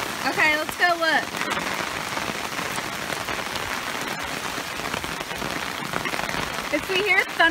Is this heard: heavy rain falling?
yes